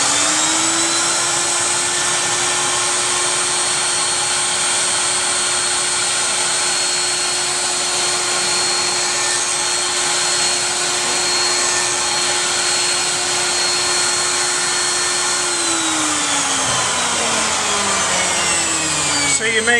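Wood router spinning at about 27,000 RPM fitted with a cove bit, a loud steady high whine that holds for most of the stretch and then winds down near the end, with no talking over it.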